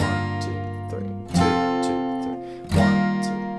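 Acoustic guitar strums the intro chords of a song, close and alone, with ringing sustained chords and fresh strums roughly every second and a half, no talk.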